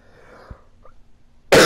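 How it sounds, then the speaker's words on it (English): A single loud cough lands close on a gamer's microphone after near silence, a sharp harsh burst cut short at the end. "sorry guys. Coughing in the mic."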